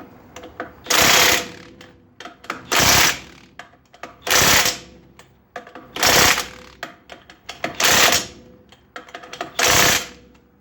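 An impact wrench fitted with a 100 foot-pound torque stick tightens lug nuts on a dump trailer, six loud, even hammering bursts about every one and a half seconds, each lasting under a second.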